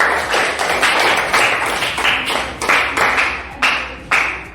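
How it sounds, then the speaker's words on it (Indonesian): Classroom applause: a group of students claps together in strong, evenly spaced beats, about two per second, loud and close with no talk. "Tepuk tangan untuk kita semua."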